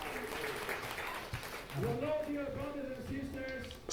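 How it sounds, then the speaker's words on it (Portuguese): Applause rises from a congregation at a baptism service, a broad burst of clapping in praise of the Lord that soon gives way to voices and singing over the room. "Vamos dar palmas ao Senhor pelo seu corpo."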